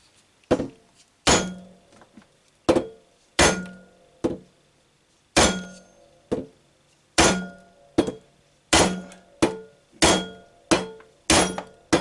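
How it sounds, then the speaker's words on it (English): An electric moped axle being struck to loosen it, giving about fifteen sharp metallic taps in a loose uneven rhythm, each ringing briefly before fading, close and loud. "We'll try wedging in under here and giving the axle a tap and see if that does anything."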